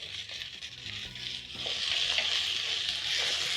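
Tomatoes and tomato paste fry with garlic and ginger for a lentil and potato stew, giving a close, continuous sizzle with bursts of spoon stirring, growing a little louder midway.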